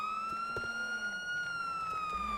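A police car siren in a video game wails steadily and loudly in a sustained tone without pause, close and alone.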